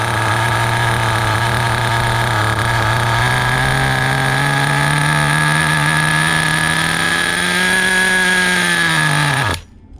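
A small HPI Nitro RS4 radio-controlled car's T3.0 nitro engine idles very low and steady close to the mic, a continuous buzzing drone that rises slightly before cutting out abruptly near the end.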